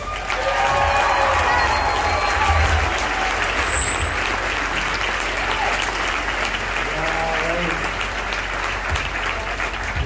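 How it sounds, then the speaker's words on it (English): An audience at a livestock show applauds and claps for a singer, a steady, dense wash of clapping that holds for about ten seconds, with faint crowd noise mixed in. "I'm glad that we're getting all this clapping over with"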